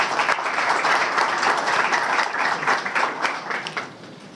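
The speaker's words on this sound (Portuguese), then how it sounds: "Uma salva de palmas." Sustained audience applause fills a symposium on real-estate appraisal, steady and dense throughout before tapering slightly near the end.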